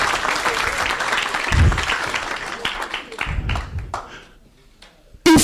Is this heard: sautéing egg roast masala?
no